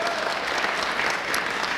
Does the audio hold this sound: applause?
yes